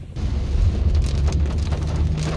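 Heavy rain pours down in a big storm near an Australian beach, a loud, steady broadband wash that carries on without break throughout.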